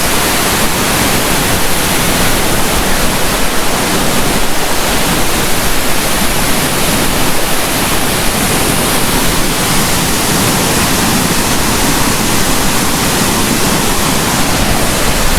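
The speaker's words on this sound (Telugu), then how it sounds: "This is the waterfall." A 102-foot waterfall near Vizag roars as a loud, dense, unbroken rush of falling water that fills the whole scene at close range, with no voices.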